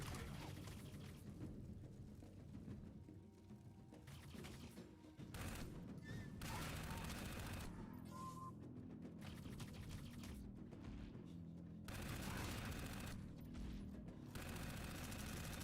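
Rockets and gunfire blast at the player in the Dark Void video game, a dense run of loud booming, crackling fusillade that stays busy throughout with brief lulls.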